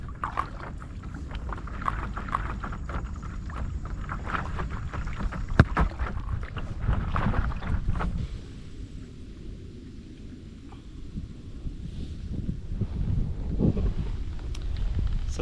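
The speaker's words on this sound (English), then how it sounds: "Now I'll go to the other side of the lake, and it looks like now I'm paddling with the current" Paddling an inflatable paddleboard rigged as a kayak with a seat on a lake, moving with the current: steady low water swishing and paddle strokes with wind buffeting the microphone, continuous throughout with no talking.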